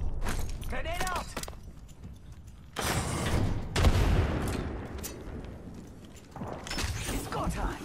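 Video game combat with a thrown grenade and bursts of gunfire, loud crackling blasts coming in separate waves between stretches of quieter ambience, with voices talking at the start.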